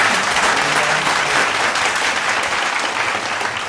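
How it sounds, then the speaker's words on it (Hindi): A live audience at a studio poetry gathering bursts into loud, sustained applause, dense clapping that stays steady throughout with a faint voice beneath. "एक बार ताली ताली।"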